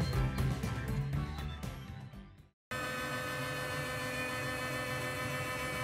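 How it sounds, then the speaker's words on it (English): A lathe runs a facing cut on metal stock with a steady motor hum and whirring cutting noise. The sound drops out briefly near the middle, then resumes as an even drone. "So we're starting off here with a facing operation because I need to take it down about 2mm to get it down to 18mm."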